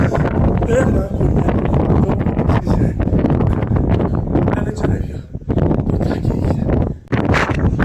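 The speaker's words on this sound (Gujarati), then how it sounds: "બહાર તો ઠંડી છે, અહીંયા તો બહુ ઠંડી છે, પવન જોરદાર આવે છે" Strong, cold wind buffets the microphone in loud, rough gusts at a hilltop temple, with faint voices partly buried beneath the roar.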